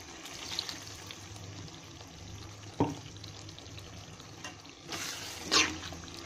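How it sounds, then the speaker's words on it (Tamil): Water from a masala grinder jar is poured into a simmering garlic and pepper gravy in a kitchen, a soft liquid splash with a few clinks of the jar against the pan over quiet background. "இந்த மசாலா ஜாரில் உள்ள தண்ணியும் இதோட ஆட் பண்ணிக்கோங்க."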